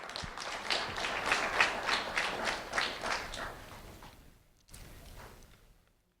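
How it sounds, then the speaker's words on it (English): An audience applauds two honored eighth-grade students at a recognition event: steady, dense clapping from many hands for about four seconds, then thinning out into a quieter final patter. "A round of applause for Juan Rodriguez and Scott Stefan"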